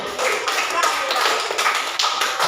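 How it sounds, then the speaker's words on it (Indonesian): Classroom applause at a primary school for a student named Nena, a steady dense patter of clapping hands from a group, fairly close and continuous throughout. "Tepuk tangan buat Nena ini."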